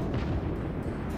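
A battleship's main guns fire a salvo in World of Warships, the USS Arizona battleship, heard as a dense, low rumbling boom that fills the moment without pause.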